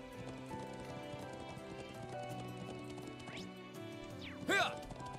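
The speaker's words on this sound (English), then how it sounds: "I also can't make it so they clop really, really fast." Horse hooves clop steadily in the video game Trails of Cold Steel IV, with a neigh near the end. The hoofbeats sit under sustained background music and sound fairly quiet.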